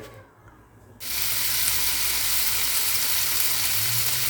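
Sausage and green onion frying in a pan, a loud steady sizzle that starts abruptly after a quiet second and holds evenly through the rest, with no talking.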